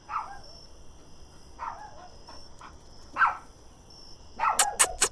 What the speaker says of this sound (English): It's a dog. A dog? This creature has but one head. Maltese, I think.